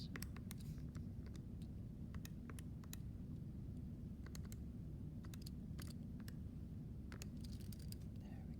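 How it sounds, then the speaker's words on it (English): Fingers pressing calculator keys to compute an integral, a string of quick clicky taps at an uneven pace, close and faint over a steady low hum. "now it's just a matter of typing things in on your calculator to make it do the integral for you"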